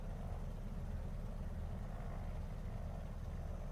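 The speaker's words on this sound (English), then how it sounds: "Then we'll continue to taxi out to the runway" A small aircraft taxis out to the runway near nightfall, its engine a steady, muffled low drone with no other distinct events.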